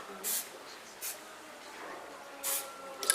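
Short, thin bursts from a spray paint can misting a model figure: three brief hissing puffs spaced apart, fairly close and quiet, with no talking.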